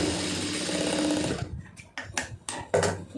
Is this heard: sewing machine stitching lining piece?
yes